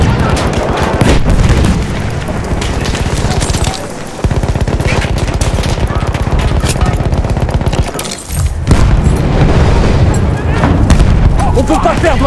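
Battlefield 1 Operations battle on Devil's Anvil, dense loud gunfire and booming blasts throughout, with brief dips and a heavy explosion near the end, voices faintly mixed in.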